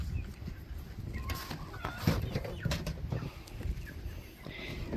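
Backyard chickens in a coop, including a bird with a hurt leg, make scattered honks and clucks at low level over rustling and background noise, with no distinct talking.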